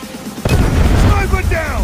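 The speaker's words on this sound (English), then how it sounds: "Predator missile inbound." Predator missile explosion in Call of Duty Mobile: a sudden loud blast that cuts in and rolls into a sustained rumble, with voice-like tones running over it.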